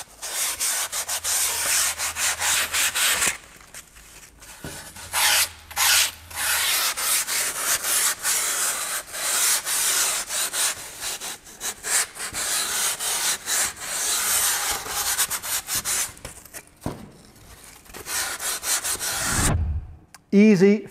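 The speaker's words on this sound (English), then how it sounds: "We're going to refine these forms with finer rasps." A rasp works a sculpture block into a heart shape: close, dry scraping strokes in long runs, with short pauses between passes and a brief clatter at the end.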